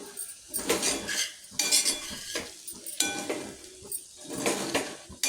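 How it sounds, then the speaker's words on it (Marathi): A spoon stirs sabudana khichdi mixture with crushed peanuts, salt and chilli in a pan, giving repeated close scraping and clinking strokes against the metal in an uneven rhythm, with no voices. "एकसारखी हलवून घेते म्हणजे मीठ तिखट सर्व आपल्या या मिश्रणाला एकसारखं लागेल"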